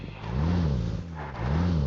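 Car engine revving up as the vehicle pulls away, two rising-and-falling surges of rough low-pitched engine tone, fairly loud and close from inside or beside the car, with no talk over it.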